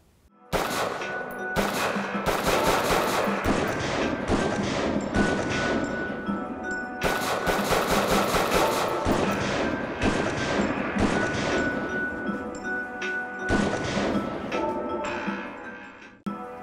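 KF-7 Soviet rifle in the video game GoldenEye 007, firing in rapid automatic bursts with short pauses between, loud and close, with metallic ringing tails and no voices.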